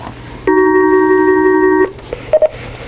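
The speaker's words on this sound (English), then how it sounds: "we got a phone call coming in, and so we'll take it" A call-in ring tone on a radio show phone line, a steady multi-tone electronic signal lasting just over a second, loud and alone, followed by a couple of short faint beeps.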